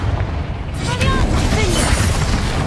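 The Confringo blasting spell explodes in Hogwarts Legacy with a deep boom and a crackling burst, set over a steady bed of game music and ambience.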